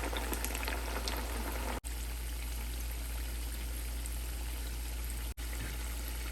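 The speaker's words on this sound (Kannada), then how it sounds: "ಎರಡು ಸೈಡ್ ಗೋಲ್ಡನ್ ಕಲರ್ ಆಗೋ ತನಕ ಕರಿಯೋಣ." Poha medu vade, made from flattened rice, deep-fry in hot oil with a steady, dense sizzle and bubbling that runs continuously at close range, broken only by two brief dropouts.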